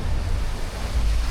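Strong 35-knot wind gusting 40 and rough surf on a racing yacht at sea in the Vendée Globe 2024, a continuous loud roar of wind and rushing water dominated by low rumble, with no talk.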